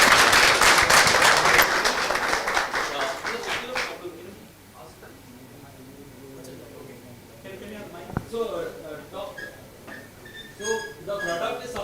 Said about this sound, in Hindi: तो सबसे बड़ा ताली बनता है इनके लिए या नहीं?